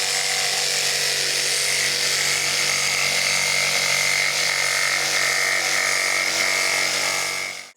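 A power tool cuts through sheets at an off-grid homestead in Portugal, with a loud, steady, high-pitched whine that runs continuously and then stops abruptly at the end.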